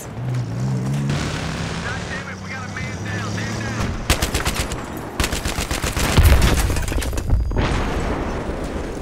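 Rapid bursts of close automatic gunfire in Battlefield 3, with dense rattling volleys and a heavier boom mixed in, over engine drone and a brief voice in the first seconds.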